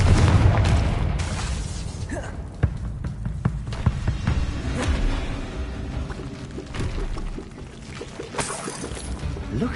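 Fiery Confringo spell blasts in Hogwarts Legacy, several sharp booming impacts with crackling debris and rumbling tails, loud and close, spaced irregularly amid continuous game ambience.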